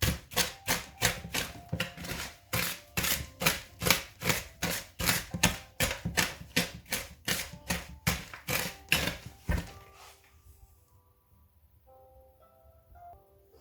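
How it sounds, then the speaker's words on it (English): Butter and sugar being whisked together in a bowl for a fruit cake, a fast steady run of sharp rhythmic strokes, close and loud, that stops abruptly near the end and leaves a few faint clinks. "After whisking the butter and the sugar together"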